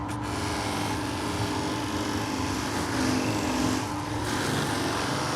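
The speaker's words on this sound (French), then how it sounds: "je viens ici pour poncer" Stone surface being sanded to take out scratches, a steady, continuous abrasive whirring grind that stays at an even level throughout with no pauses.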